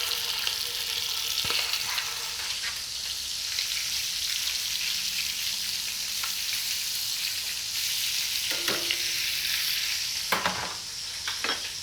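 Rabbit pieces frying in hot oil, a steady broadband sizzle held at an even level throughout, with a few sharp stirring clicks and scrapes of the pan cutting in near the middle and end.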